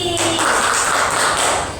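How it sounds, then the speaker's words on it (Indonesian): Brief burst of applause in a school classroom for a student, a dense patter of many hands clapping at once, steady and close for under two seconds. "Tepuk tangan untuk Mbak Suci"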